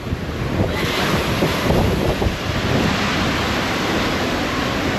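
Ocean waves and gusting wind roar steadily around a sailboat at sea on passage from the British Virgin Islands toward Panama, a broadband wash of surf with wind buffeting the microphone, no talking.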